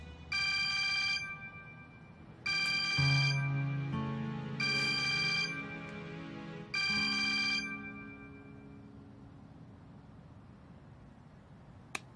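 Mobile phone ringtone in a Turkish TV drama scene, playing in four bright melodic bursts separated by short gaps, then stopping and leaving quiet room tone. Nobody speaks.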